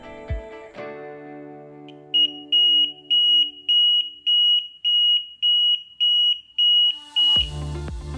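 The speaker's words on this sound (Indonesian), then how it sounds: "buzzer mengeluarkan bunyi bip secara berselang, yang juga bisa disebut dengan mode putus-putus" A buzzer beeps in a steady intermittent pattern, about ten evenly spaced loud shrill tones, ending with a clatter.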